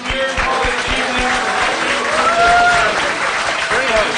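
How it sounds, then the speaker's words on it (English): An audience at a congressional debate claps for the evening's volunteers with brisk, steady applause, while a voice talks faintly over the noise. "Can we get a round of applause for our volunteers for this evening?"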